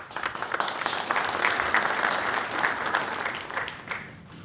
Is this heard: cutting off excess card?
no